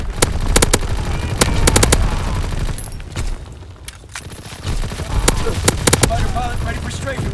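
Repeated bursts of anti-aircraft gunfire from the World War II shooter game Call of Duty: WWII, a domination match on the Shipment map, sharp loud volleys in rapid clusters with a brief lull midway, then more bursts under game voice callouts.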